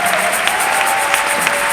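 A church audience applauds and cheers to welcome a bishop, loud dense clapping that stays steady throughout, with some voices mixed in.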